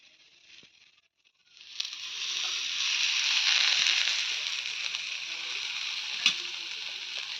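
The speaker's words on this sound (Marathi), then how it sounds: "अजून तवा तेल टाकून देऊया आपण आणि हा पराठा टाकून घेऊया आता आपल्याला." A paratha is laid on an oiled tawa and sizzles loudly and steadily right after a quiet start, the frying close and continuous with no talk over it.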